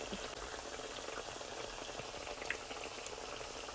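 Hot water cornbread patties fry in hot grease, giving a steady, dense crackling sizzle that holds at an even level throughout, with no voices over it.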